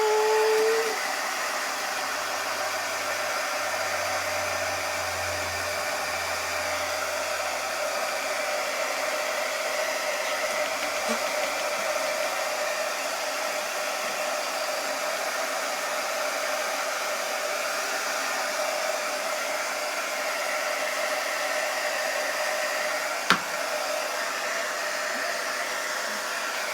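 A hair dryer blows steadily on an autumn paper craft cutout, a loud, even whirring roar held close for the whole stretch, with a single faint click near the end and no voices.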